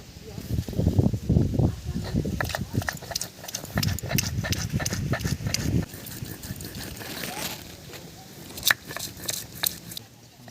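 Green chillies and spices are ground on a stone in a village kitchen, with repeated gritty scraping and knocking strokes in irregular bursts; a person talks over the grinding.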